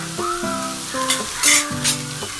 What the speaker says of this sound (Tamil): இப்போ நம்ம அரைச்சி வச்ச சிக்கன் போட்டுக்கலாம்.